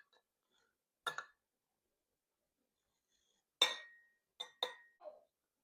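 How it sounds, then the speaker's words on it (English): Crispy apple crumble topping being spooned onto a plate, heard as a short clink of utensil on dish followed by a cluster of four quick scraping taps, close and fairly quiet with no talking. "you can just hear how nice and crispy this topping is going to be"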